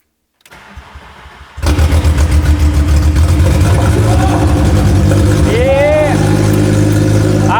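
A swapped five-cylinder car engine, hot-wired to the battery, cranks briefly and then catches, settling into a loud, steady, throbbing idle close by, while voices talk over it.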